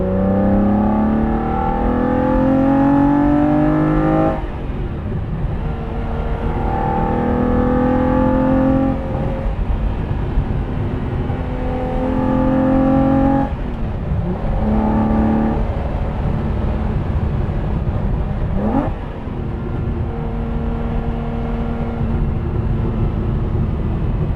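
A 1973 Ferrari 365 GTB/4 Daytona engine roars close and loud, its pitch climbing steadily then dropping at each gear change as it accelerates hard.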